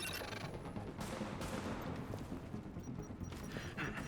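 Enemy gunfire in a video game crackles as a dense, continuous barrage of overlapping shots, mid-distance and fairly loud, with a few sharper bursts standing out and no talking.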